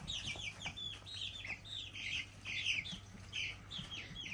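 Young chickens with downy heads and growing feathers cluck and chirp softly in a quiet run of calls, several short squawky notes close by at low volume.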